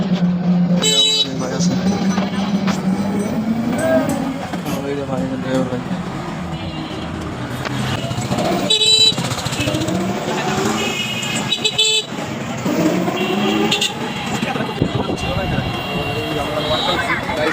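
Riding along in an auto rickshaw through busy traffic in Palashbari, Gaibandha, with engine hum, repeated horn toots around, and people talking throughout.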